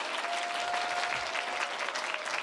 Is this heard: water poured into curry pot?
no